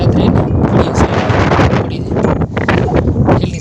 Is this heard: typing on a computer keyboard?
no